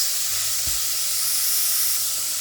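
Meat sizzles in a hot pan with a steady, bright hiss throughout, and a single soft knock from a utensil early on.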